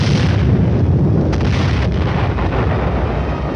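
A tank's main gun fires and the shell strikes an enemy anti-tank gun position, a heavy, loud, continuous blast and rumbling roar that fills the whole moment without letup.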